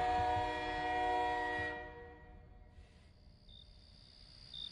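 A train whistle blows long and loud as the train pulls away, the steady tone fading after a couple of seconds into low rumbling rail noise, with a faint high beep later.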